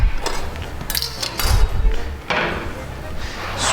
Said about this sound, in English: Just whisking it, take out all those lumps.